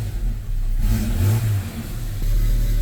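Jeep Comanche engine running close by, idling and then revving up with a rising roar before settling back to a rough, steady idle.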